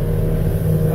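The engine of a 1996 Arima Chaser 15-foot motorboat drones under throttle as it is pushed up onto a plane, a loud, steady low roar held through a single second.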